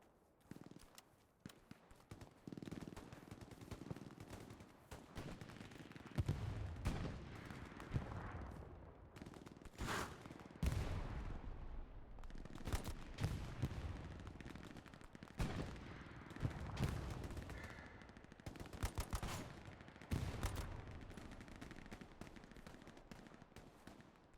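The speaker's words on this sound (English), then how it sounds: "Enemy machine gun on my mark." Enemy machine gun fire in the World War II shooter Hell Let Loose, bursts of automatic shots rattling repeatedly throughout, mixed with other scattered gunfire and battlefield noise, fairly close and loud.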